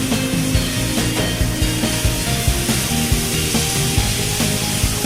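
Red wine poured into a hot pan after searing Cornish hen, giving a steady close sizzle and crackle with scraping and rubbing against the pan throughout.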